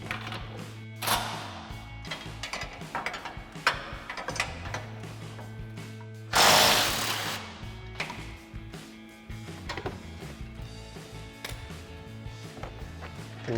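A hand ratchet clicks in bursts while backing a nut off the suspension of a Jeep Gladiator JT, close and crisp, with a louder metallic rasp partway through and a low hum beneath.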